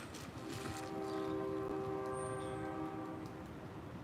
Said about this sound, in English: Train horn's going off again as this car is pulling up.